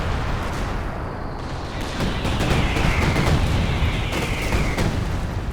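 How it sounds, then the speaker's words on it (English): Big aerial bombs dropping in a Company of Heroes 2 battle, a loud sustained roar of blasts and rumble with a rising whistle over steady battlefield noise. "In come the big bombs, air supremacy."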